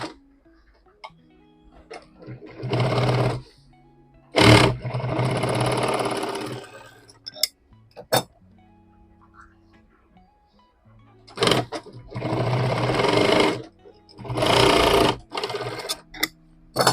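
A sewing machine stitches a rexine bag in several short bursts of rapid motor chatter separated by quiet pauses and small clicks, close and loud.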